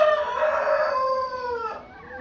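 Chantecler chickens on a small poultry farm, one bird giving a drawn-out crowing call that rises and trails off, close and clear over faint background noise.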